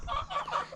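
A chicken clucks in a brief, faint burst of a few quick, soft calls, close by and unaccompanied by voices.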